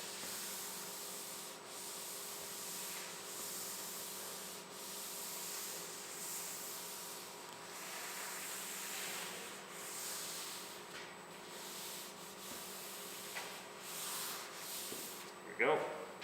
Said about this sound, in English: So I'm just gonna go back and forth here, remove all this excess finish.